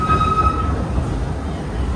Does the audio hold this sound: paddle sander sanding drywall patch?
no